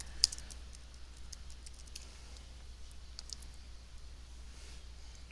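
Typing on a computer keyboard: faint, scattered light key clicks at an uneven pace over a low steady hum, quiet and close.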